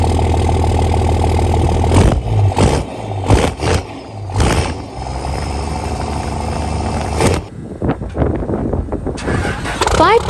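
Diesel 5.9 Cummins engine with a 5-inch exhaust, loud and close, with several sharp revs over a deep idle rumble, then a steady drone and a final burst of throttle.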